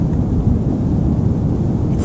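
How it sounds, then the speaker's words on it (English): Ocean water rushes and churns in at the rocky shore at Cape Perpetua in a dense, continuous roar, loud and close, with no voices over it. "There's water rushing in. The tide shifts in and out."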